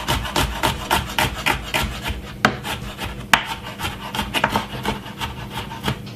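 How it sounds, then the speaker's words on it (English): A knife cuts two garlic cloves on a board in a home kitchen, giving a brisk run of close, rhythmic scraping and chopping strokes with a few sharper knocks. "is to cut up my garlic"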